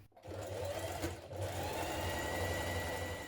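A sewing machine stitching the back waistband pieces of dungarees together at the centre back seam, running with a steady close motor whir and needle chatter, briefly stopping then continuing.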